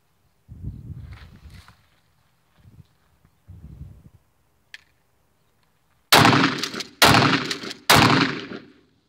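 Tac 14 shotgun firing double-aught buckshot, three loud sharp blasts in quick succession after a stretch of low thuds and handling noise.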